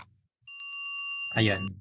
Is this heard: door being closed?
no